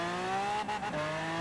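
A BMW X6 in Forza Horizon 4 pulls away under hard throttle, its engine droning with rising and shifting tonal whine and a brief dip, steady and moderately loud, with no talk.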